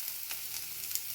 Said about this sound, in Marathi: गरम झालेल्या तव्यामध्ये मी आता कांदा भाजून घेते